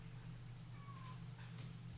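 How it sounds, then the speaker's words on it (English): Cat crying outdoors, a faint distant meow with a thin drawn-out wail behind a steady low electrical hum. "I can hear a cat crying out there"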